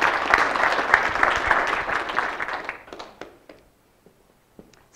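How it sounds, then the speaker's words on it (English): An audience's round of applause for a speaker being introduced: dense, loud clapping for nearly three seconds that thins into a few scattered claps, then fades toward quiet with a last clap at the end. "So please give a round of applause for Feline."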